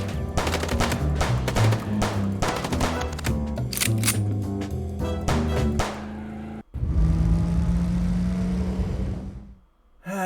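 Rapid gunfire during a car chase in the Chicken Police video game, dense bursts of shots over a roaring engine, loud and close, then a sudden shift to a sustained engine rush that fades away.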